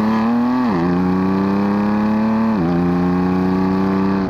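A 2018 BMW M4 CS engine revs hard under acceleration, a loud, close, steady mechanical drone with two quick dips in pitch as gears shift, then climbing again.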